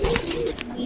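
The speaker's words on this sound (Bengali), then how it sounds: "এটা দিলাম একটা পুরান জাতের খয়রা গোলাপ কবুতর।" An old-breed brown pigeon coos close by in a low, rolling, throaty call that carries steadily through the short moment, with no talking.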